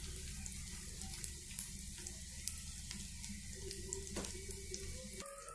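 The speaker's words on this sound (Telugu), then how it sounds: "తర్వాత ఇందులోకి కొంచెం ఇంగువని కూడా యాడ్ చేసుకోవాలి" Asafoetida dropped into hot oil for tomato pickle gives a quiet, steady sizzle with a few faint clicks and a brief scrape near the end, without speech.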